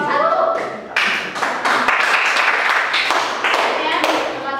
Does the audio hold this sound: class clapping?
yes